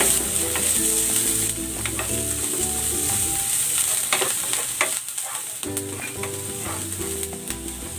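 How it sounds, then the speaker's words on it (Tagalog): Garlic and onion sauté in a pan for a Filipino pork-in-tomato-sauce dish, giving a loud, steady sizzle and crackle with stirring scrapes throughout and a brief dip in the frying hiss near the middle. "Magigisa na ako ng bawang. At ng sibuyas."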